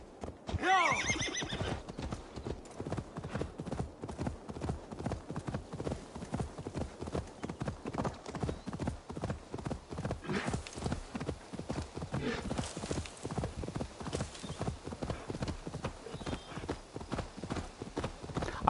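Horse hooves clip-clop in a steady gallop in Assassin's Creed Valhalla, with a loud whinny near the start, continuing close and busy throughout while a voice talks over the game.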